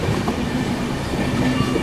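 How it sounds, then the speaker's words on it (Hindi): The New Delhi–Sealdah Rajdhani Express rushes past close by, a loud steady roar of wheels and carriages with rhythmic clatter and no talk. "ये गई न्यू दिल्ली शियालदह राजधानी एक्सप्रेस।"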